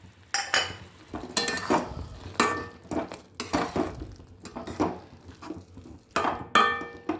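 Paneer being stirred in a pan while making palak paneer, with repeated bursts of utensil scraping and clinking against the pan, close and fairly loud, in an uneven rhythm with short pauses between strokes.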